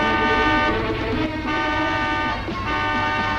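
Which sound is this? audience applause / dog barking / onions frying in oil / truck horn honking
truck horn honking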